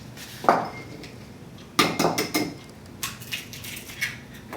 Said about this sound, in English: I always break my eggs into a little bowl just in case you get a shell in there